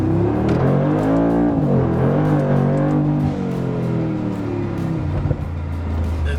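A Brabus G800 Mercedes G-Wagon accelerating hard, its deep engine note climbing steadily in pitch, dipping briefly at a gear change and then rising again, loud and close from inside the cabin.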